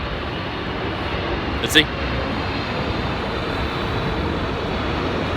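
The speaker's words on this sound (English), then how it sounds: "It just sounds like a big plane." A big passenger airplane passes overhead with a loud, steady, broad roar that fills the whole stretch without letting up. A voice says a few words briefly.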